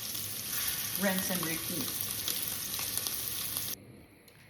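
Meatballs sizzling and frying in a pan, a steady close hiss that carries under a brief spoken line and then drops away sharply near the end.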